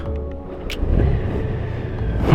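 A motorcycle engine rumbles low and steady close by after starting up, with a slight rise in idle as it settles.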